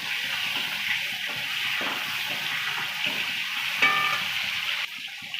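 Chopped tomato and slit green chillies fry in a pan with five-spice seasoning, giving a steady close sizzle with a few faint clinks and no speech.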